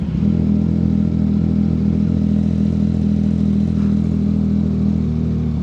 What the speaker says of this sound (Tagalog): Narinig nyo yung buga, grabe no? Ganito talaga kapag nilagyan mo ng aftermarket mga 3-cylinder.